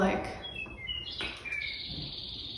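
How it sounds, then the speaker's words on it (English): Outdoor birds chirp in quick, high, bright tweets and short whistled calls, fairly close and clear, with a low background hum beneath them. "The birds are so noisy today."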